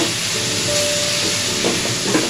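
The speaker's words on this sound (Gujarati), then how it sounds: "હવે એને આપણે સાંતળી લઈએ અને ડુંગળી થોડી ચડવા દઈએ આપણે એને।" Onions and green garlic sautéing in hot oil for a green chickpea olo give a steady, loud, close sizzling hiss that runs unbroken throughout.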